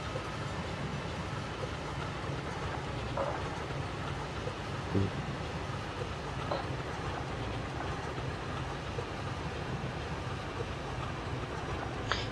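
A Roblox Streamlined train runs steadily along the track, a continuous rumbling rail noise with faint clicks, moderately close and uninterrupted, with no talking.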